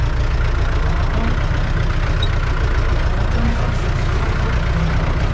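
Tractor or farm machinery engine with a worn clutch idling steadily, a continuous low rumble close by that holds level throughout with no talk.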